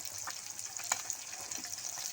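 Just-flipped pabda fish fry in hot mustard oil in a kadai, a close, steady hiss with a few sharp pops and a brief clink of a turner.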